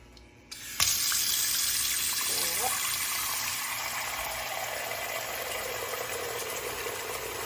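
Tap water gushes steadily into a cooking pot being filled for noodles, starting abruptly after a brief click and continuing as a loud, even rushing stream.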